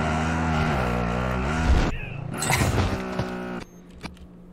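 A car engine in the video game Warzone roars loudly and steadily, with a rising and falling pitch, then cuts off abruptly near the end, leaving a few faint knocks.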